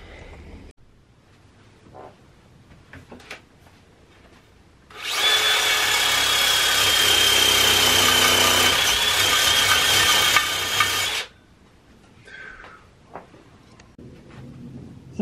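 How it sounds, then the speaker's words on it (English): A power-driven wire brush grinds a Honda motorcycle wheel rim clamped in a vise, a loud harsh continuous whir lasting about six seconds, with quieter handling clatter before and after. "with the wheel in the vise, you just spin and grind"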